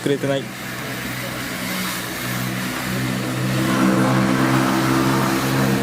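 A radio-controlled drift car accelerates with a steady motor whine that swells and rises in pitch over several seconds, heard close and continuous.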